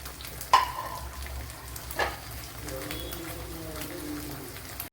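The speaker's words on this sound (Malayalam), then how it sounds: "ഇവിടെ നമ്മുടെ മീനൊക്കെ ഇങ്ങനെ ഫ്രൈ ആയിക്കൊണ്ടിരിക്കുകയാണ്" Sardine fish frying in oil in a pan, a steady low sizzle running throughout with a couple of sharper clatters of utensils against the pan.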